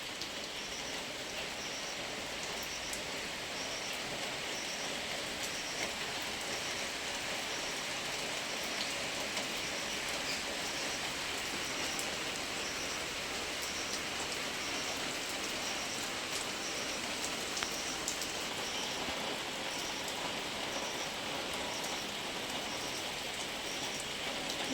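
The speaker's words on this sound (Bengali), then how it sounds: "জোরে বৃষ্টি পড়ছে" Heavy early-morning rain pours down steadily with a dense, unbroken hiss of drops hitting surfaces, constant and loud throughout with no voices.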